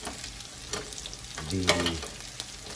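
Oxtail pieces browning and sizzling in a hot pan, a steady crackling fry with occasional stirring scrapes and a brief louder burst of sputtering partway through.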